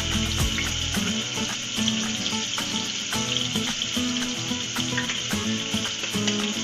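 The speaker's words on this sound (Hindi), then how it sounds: "और अच्छे से फ्राई कर लेंगे।" Garlic and onion frying in a pan for lauki chana dal, a steady close sizzle with scattered light clicks of stirring, and no talk.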